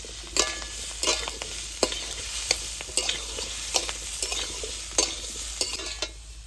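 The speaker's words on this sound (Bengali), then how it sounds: "এবার আলু আর পেঁপে ভালো করে ভেজে নেব।" Potatoes and papaya fry in a pan while a utensil stirs them, giving a continuous sizzle broken by repeated sharp scraping strokes. The sound is close and loud, with no voices.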